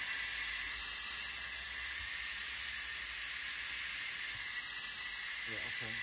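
Steady broadband hiss of a Ninja Foodi OP100UK pressure cooker venting steam, loud and continuous for several seconds.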